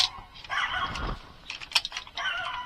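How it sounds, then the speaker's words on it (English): A dog barks and yips in short, uneven bursts indoors during the reassembly of a lightning-damaged PS3 Slimline, fairly faint, with a few sharper yelps toward the middle. "Why you barking so much?"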